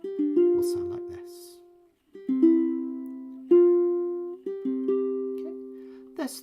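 Ukulele playing one measure of a chord melody arrangement: a handful of plucked notes and strummed chords, clear and alone, each ringing briefly before the next.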